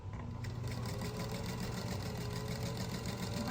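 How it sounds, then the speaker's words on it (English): A sewing machine runs steadily throughout, stitching a background fabric square to a printed square with a quarter-inch seam allowance, its fast rhythmic needle clatter close and continuous with no talking. "I just sew these 2 squares together, one background and one of the prints"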